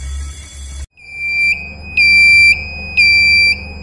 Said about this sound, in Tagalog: Alarm triggered in the steering console.